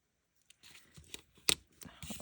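Scissors cutting through a planner sticker sheet: a series of close, crisp snipping and papery crinkling bursts, with one sharp louder cut in the middle.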